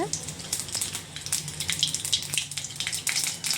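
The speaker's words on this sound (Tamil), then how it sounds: "கடுகு இந்த மாதிரி பொரிஞ்சு வர ஸ்டேஜில் கருவேப்பிலை போட்டுக்கலாம்" Mustard seeds spluttering in hot oil in a kadai give irregular, sharp crackling pops over a soft sizzle, close and fairly loud.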